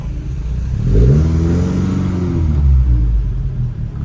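A Lotus Elan restomod engine idles with a steady low rumble, then revs and pulls away under way, the mid-pitched engine note rising and falling close up without talk.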